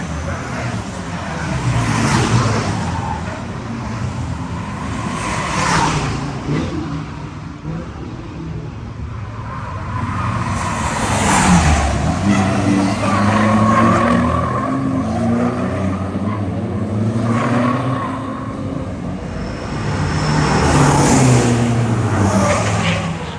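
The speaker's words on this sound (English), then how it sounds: "There's like drifting going on over here." Turbo diesel pickups, including a Ford Ranger, drift at a truck racing event in Thailand: loud, continuous engine roar with revving surges and screaming tire squeal, sustained over the whole stretch with no talk.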